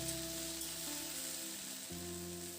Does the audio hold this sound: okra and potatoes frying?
yes